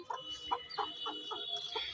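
Chickens clucking softly nearby in a quick series of short, quiet clucks over a faint background hum.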